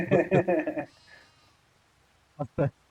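Several quick sheep bleating calls in the video game Farming Simulator 25 open the clip, a loud wavering burst, then after a quiet gap two shorter bleats sound near the end.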